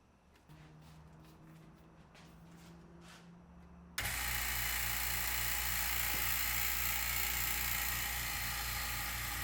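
A vacuum pump for vacuum bagging a carbon fiber BMW E30 gas door kicks on partway through, becoming a loud, steady hissing roar over a faint background hum until the end.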